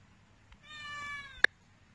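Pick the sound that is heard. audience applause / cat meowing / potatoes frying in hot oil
cat meowing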